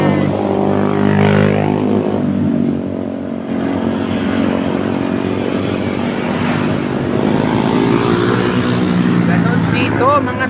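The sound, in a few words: motorcycles passing on a road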